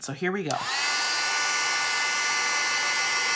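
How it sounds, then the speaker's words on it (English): A steady, loud whirring blast of hot air from a heat embossing tool melting embossing powder, running continuously after a brief spoken phrase at the start. "Excuse the noise for the heat tool."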